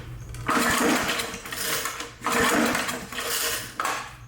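A small engine is cranked over and over by a pull starter, giving repeated rough rising bursts of mechanical chugging close by, about three pulls in quick succession, with no voices.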